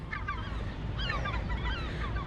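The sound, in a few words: seagulls calling near a rooftop AC unit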